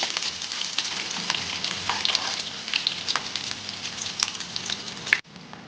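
Steady crackling sizzle of hot tempering oil spattering as it is poured onto dhokla, close and continuous, ending abruptly.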